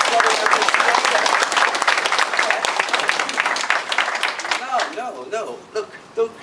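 Steady applause from a seminar audience in New Jersey fills the room, loud and continuous, thinning into scattered claps toward the end.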